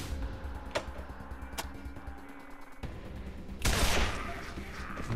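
Gunfire in the video game Wasteland 2: a few sharp isolated cracks, then a louder burst with a rushing tail near the end, set over a steady game background.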